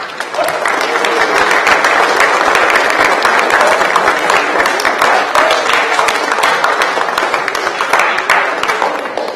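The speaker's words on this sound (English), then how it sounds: "I'd like for you to give yourselves a round of applause for all of your hard work" Eighth grade students at an academic awards ceremony give themselves a loud, sustained round of applause, dense clapping from a large group filling the room without pause.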